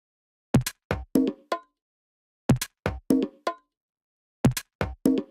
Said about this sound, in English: if you play just the congas with the sequencer, it sounds like this